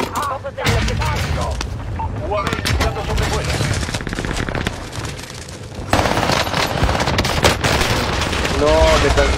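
Heavy gunfire in an online shooter game, with loud rapid bursts and booming blasts going on nearly nonstop, and voices talking over the shooting at points.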